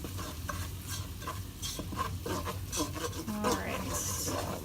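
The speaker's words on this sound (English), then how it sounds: "So mix all this flour up." Flour is stirred into garlic in a hot pan to make a roux, with close scraping strokes and a light sizzle in an uneven rhythm and a few faint clinks.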